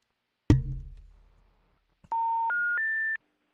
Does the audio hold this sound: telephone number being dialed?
yes